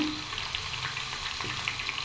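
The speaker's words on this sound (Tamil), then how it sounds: "எண்ணெயில் நல்லா டீப் ஃப்ரை பண்ணி எடுத்துருங்க." Oil sizzles and crackles steadily as valappu pakoda or vada deep fries, a dense bubbling hiss with small pops, close and continuous.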